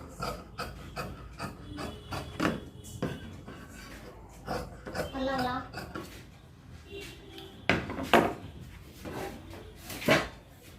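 Scissors cut through chudithar sleeve fabric at a tailoring table in a series of close, dry rasping snips and rustles with no voices, with sharper, louder cuts toward the end.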